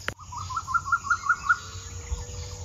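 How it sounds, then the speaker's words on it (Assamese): Birds calling in open fields: a quick run of bright chirps repeats for about a second, close and clear over a quiet rural background, then fades to faint ambient noise. "চাৰিওফালে চৰাই মাত"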